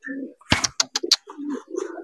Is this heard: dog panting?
no